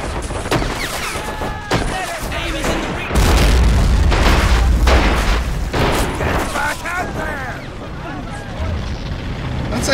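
Gunfire and explosions from the World War II strategy game Men of War: Assault Squad 2, with repeated booming blasts and crackling bursts of shots over a dense, continuous battle din, loud throughout, while a voice talks over it.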